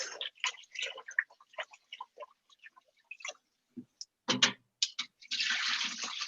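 Jasmine rice being rinsed in water: quiet, close clicks and taps of grains against a bowl, followed by a short wash of running or swirling water near the end.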